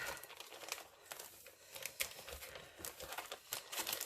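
Paper and coordinating cardstock crinkle and rustle as they are unpacked from a craft catalog shipment, a close, steady stream of crisp crackles and tearing-like scrapes with no voice.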